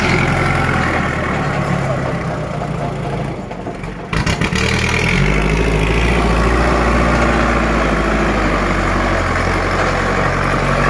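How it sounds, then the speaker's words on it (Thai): A Kubota L5018 tractor with a loud aftermarket exhaust rumbles steadily up close, its heavy low engine drone briefly dipping and cutting out before roaring back strongly. "ลิปนี้ให้ดูรถไถจัดเต็มเลยนะครับนี่"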